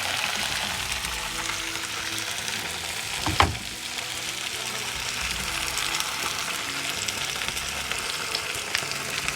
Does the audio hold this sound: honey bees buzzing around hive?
no